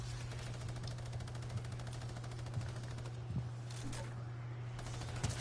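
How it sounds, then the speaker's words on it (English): Rapid SMG fire in a video game rattles in a fast, continuous stream of shots at an even rhythm over a steady electronic hum, moderately quiet, without talking. "I killed them all in like one SMG shot now"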